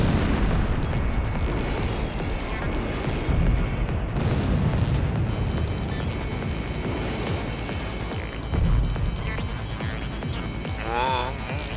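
Missile launches and explosions in the Ace Combat air-combat video game, dense continuous rumbling booms and blasts under layered game noise, with a voice briefly talking.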